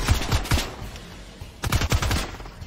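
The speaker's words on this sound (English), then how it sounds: "Who's even shooting, bro?" Rapid automatic gunfire in Fortnite, with two tight bursts of sharp shots close by, separated by a brief lull, no talking.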